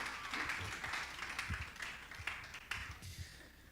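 A church congregation applauding at an evening service: faint, steady clapping from many hands with scattered sharper claps, heard from a distance.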